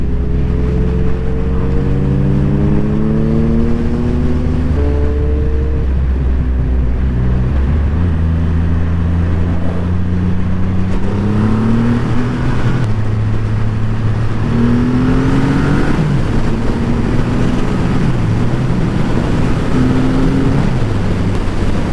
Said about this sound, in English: we're trundling along 40 miles an hour, third gear